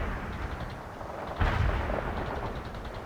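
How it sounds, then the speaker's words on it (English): A distant artillery strike rumbles in the World in Conflict strategy game, with a muffled boom about midway over a continuous low battle din. "Requesting artillery strike on coordinates."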